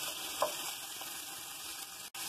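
Beef browns in a hot pan, giving a steady, fairly quiet frying sizzle that runs unbroken through the clip, with a brief stir or clink near the start.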